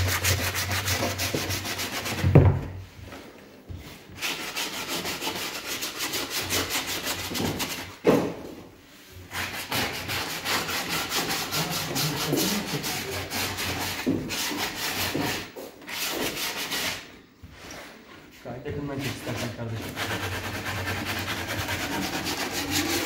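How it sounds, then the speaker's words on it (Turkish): Steady scratchy rubbing of sandpaper on a wooden pandizot (Turkish flatbread paddle) by hand, close up, running in long strokes with a few brief pauses. "Aynen şu an zımparalama işlemine geçtik."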